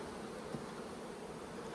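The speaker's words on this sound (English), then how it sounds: "Got a good many bees up here in the top box" Soft, steady droning of many honey bees inside a hive's top box, a faint continuous hum heard up close without voices.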